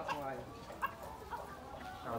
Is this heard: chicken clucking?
yes